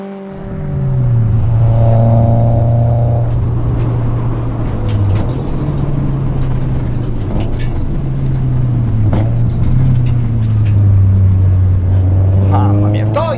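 A Subaru rally-style car accelerates hard along a twisty road, engine note climbing and dropping sharply as it snaps through first, second and third gears, loud and close throughout with someone talking over it.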